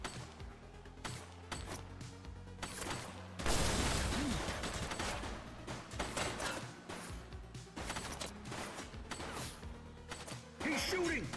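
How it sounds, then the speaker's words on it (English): Repeated gunfire in the police video game The Precinct, bursts of sharp shots crackling in fast succession with mechanical clanks mixed in, loud and steady throughout. "Shots fired! Central, suspect is neutralized."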